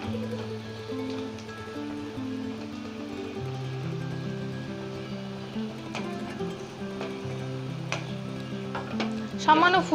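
Cornflour slurry being stirred into egg chilli sauce in a frying pan, a continuous bubbling sizzle with soft spatula scrapes throughout, close and steady.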